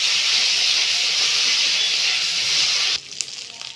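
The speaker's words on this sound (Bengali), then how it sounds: "ওই তেলের মধ্যে দিয়ে দিচ্ছি গোটা জিরে ফোড়নে, সামান্য পরিমাণে হলুদ দিয়ে দিলাম" Whole cumin, turmeric, and a ginger and coriander-cumin paste hit hot oil in a loud, steady hiss that cuts off abruptly near the end, leaving only faint crackles.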